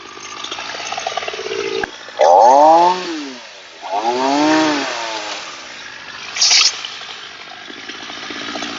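A chainsaw cuts branches while a mango tree is pruned, a loud engine whine that rises and falls in pitch with two strong revving surges and a brief burst near the end.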